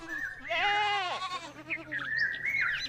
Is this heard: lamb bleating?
yes